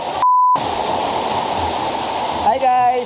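Takuri Falls in San Remigio, Antique pours as a loud, steady broadband roar of falling water, interrupted briefly by a tone and joined by some voice-like sounds at the end.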